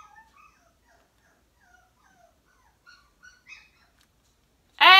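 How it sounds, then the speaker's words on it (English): Faint, high-pitched puppy whimpers come and go in soft scattered bursts, ending with a sudden loud yelp close by. "That's my puppies."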